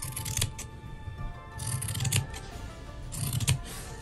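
Scissors trimming the edges of a fabric piece for sewing, three short bursts of crisp snipping and shearing up close, separated by brief quieter pauses.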